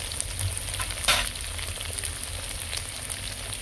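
Bottle gourd stems, chunks of gourd and potatoes frying in a pan, giving a steady, even sizzle with one brief louder stir-like burst near the start, and no voices.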